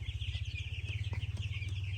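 Backyard chickens on fresh shavings cluck continuously while eating their food, with a steady rhythmic low churr from several birds nearby and occasional pecking taps.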